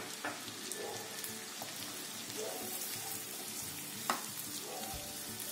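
Chopped onion sizzles steadily in a pan over a medium gas flame as turmeric curry is cooked, giving a soft continuous frying crackle with a few louder pops and stirring clinks, and no talking.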